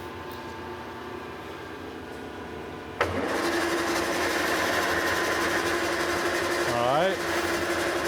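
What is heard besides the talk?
Monarch lathe running with 3-jaw chuck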